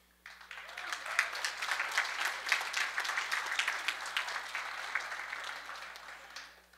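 A school audience at a secondary-school talent show applauds after a performance. Steady, fairly distant clapping rises quickly, holds for several seconds and then fades out.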